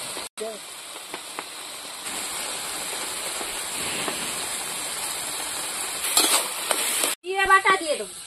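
Boiled taro leaves being stirred and mashed in a pan: a steady soft hissing, scraping texture with occasional louder scrapes, and brief bits of a voice at the start and end.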